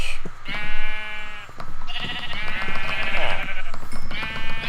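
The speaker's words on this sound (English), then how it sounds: "sheep will now drop mutton as well as wool" Sheep bleating in Minecraft, several drawn-out bleats one after another, loud and close with short pauses between them.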